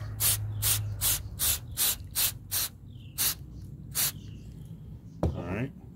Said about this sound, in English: I'm actually going to spray and go ahead here and spray the silverware, the handles here